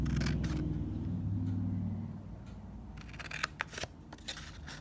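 Paper being cut with scissors along a score line while trimming a card for a Paper Pumpkin envelope flip book, a few close crisp snips after a low hum.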